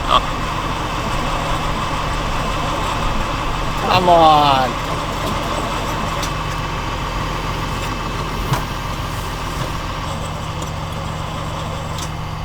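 A classic truck's engine grinds and runs in a snowstorm, a steady low mechanical drone lasting throughout with a brief louder burst partway in, while people talk over it.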